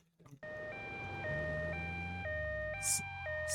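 An ambulance siren in GTA Vice City Stories wails in a steady two-tone pattern, switching pitch about every half second, loud and close, over a low engine drone, with a brief burst of noise near the end.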